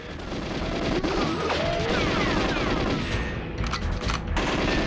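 In GoldenEye 007 on the N64, sustained loud automatic gunfire rattles continuously as shots destroy a screen, two terminal mainframes and a gun camera turret, with bursts of impact crashes layered through the barrage.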